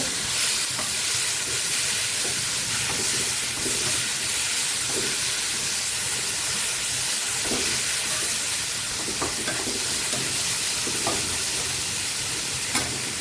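Grated tomato paste sautéing in a hot pan for a rui fish and eggplant curry, a steady close sizzle and frying hiss running throughout with occasional stirring scrapes, no voices.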